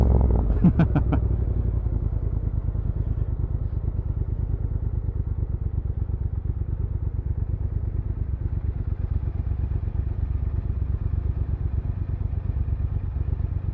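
A Triumph Thruxton RS 1200 cafe racer rides along with a steady, close engine drone and low rumble, opening with a brief burst of clatter, then holding an even, continuous note through the run.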